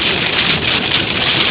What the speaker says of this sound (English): it just started raining like this just out of nowhere